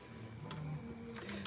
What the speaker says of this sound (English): This do-it-yourself stand dryer